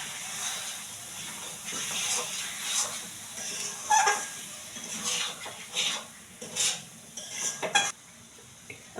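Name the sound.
raw chicken added to fried spice masala in a pan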